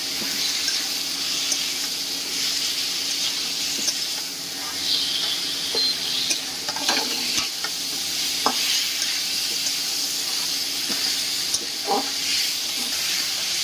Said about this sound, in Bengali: এই পর্যায়ে ভেজে রাখা আলুগুলোকে অ্যাড করে ভালো করে কষিয়ে নিতে হবে।